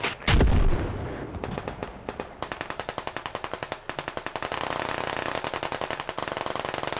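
Battlefield fire in the military shooter game Squad: a heavy blast opens, then sustained rapid bursts of automatic gunfire rattle on, loud and unbroken to the end.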